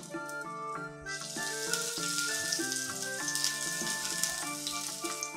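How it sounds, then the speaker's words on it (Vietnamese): Minced garlic and shallots fry in oil in a pan, a steady close sizzle under a sustained melodic tone that runs throughout. "Mình phi cho nó thơm lên nha các bạn."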